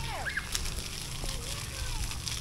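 Children play in the water at a lake park on a hot day, with light sloshing and splashing and faint distant voices mixed into a steady outdoor background.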